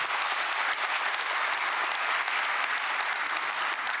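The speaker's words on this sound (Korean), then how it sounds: "박수 부탁드립니다." An audience at a Korean government policy briefing applauds, giving dense, steady clapping that stays loud and even throughout.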